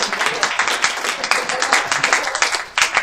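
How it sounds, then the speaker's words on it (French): A small audience at a pajama party event claps in quick, uneven bursts, close and fairly loud, with individual hand strikes clearly separated rather than blending into a smooth roar. "On peut applaudir justement pour le message"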